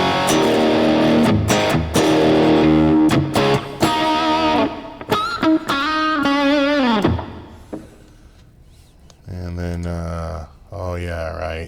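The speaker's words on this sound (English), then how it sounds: "I got a little too much distortion" Heavily overdriven electric guitar in a tribute session, chords ringing and bending with sustained notes, a brief quieter gap, then more distorted strumming, with a voice talking over parts of it.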